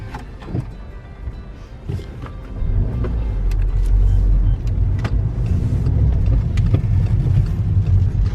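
A car interior rumbles as the vehicle pulls away and drives, low engine drone swelling after a few seconds with scattered clicks and knocks; no clear talking over it.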